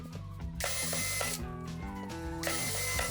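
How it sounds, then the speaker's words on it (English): A power drill whirs in steady bursts, pre-drilling holes in MDF, its motor pitch rising and falling with the load as it bores in, close and fairly loud. "I'm just pre-drilling my holes in the MDF to prevent any cracking and chipping"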